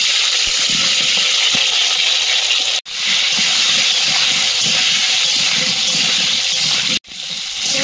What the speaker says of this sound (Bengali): কড়াইতে তেল দিয়ে দেবো, তেলে একটু লবণ দিয়ে দেবো, আর আলুটা এই ধারে ভাজতে দেবো।